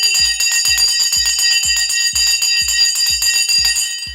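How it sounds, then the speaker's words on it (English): A bell rings rapidly and continuously at a stock market open, a bright metallic clang with regular strikes repeating about three times a second, loud and steady with no voices over it. "The bell has now gone."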